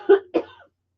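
Two sharp coughs close together from a nearby person, loud and brief, followed by silence.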